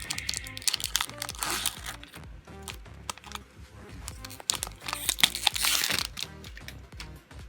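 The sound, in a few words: ripping open a cardboard Pokémon booster pack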